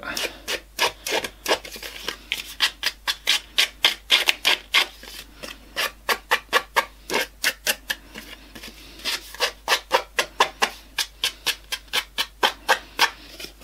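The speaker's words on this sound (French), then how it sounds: "Donc c'est parti déjà pour gratter toutes les cartes." Rapid rhythmic rasping as the edges of paper craft cards are scraped one after another for distressing, a close, steady series of short scratchy strokes with brief pauses, no talking.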